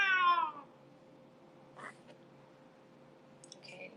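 A voice imitates an angry cat with a single loud, wavering meow at the start, followed by quiet background with a couple of faint brief noises.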